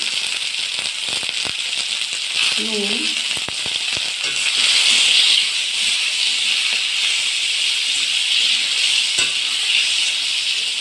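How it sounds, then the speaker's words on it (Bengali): Turmeric and chili powder frying in hot oil give a steady, fairly loud hiss and sizzle throughout, with a few light clinks of a utensil and a brief voice. "তেলে মেরে ফেলে ভেজে নেব হলুদ লঙ্কার গুঁড়ো"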